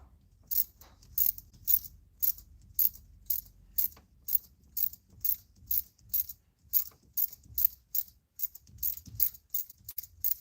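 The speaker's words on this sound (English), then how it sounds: "I got a proto ratchet of 1/4 inch." A 1/4 inch Proto ratchet clicks in a steady run of about twenty crisp, close bursts, each a quick rattle of pawl clicks with short gaps between, in a quiet garage with no talk.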